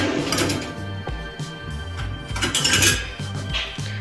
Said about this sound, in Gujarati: આ રીતના ઢાંકી દઈશું